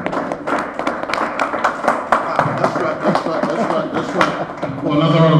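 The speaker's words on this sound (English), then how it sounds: "another round of applause, please" Audience applause at a music label's artist unveiling event, scattered claps rising and falling over several seconds, with talking mixed in.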